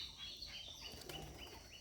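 A Rajshahi Giribaz pigeon flaps its wings while descending, producing quick, faint fluttering beats close by with a few soft chirps in the background.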